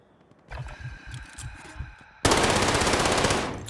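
Machine gun fire from Call of Duty Warzone: a few low rhythmic thumps give way to a sudden, loud, dense burst of automatic fire that fills the last second and a half.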